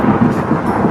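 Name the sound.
thunder booming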